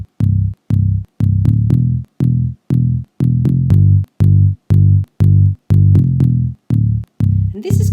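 Slowed synth bass line played on an iPad, deep sustained notes in a steady pulsing pattern with short gaps between phrases, loud and upfront, ending with a small noisy blip.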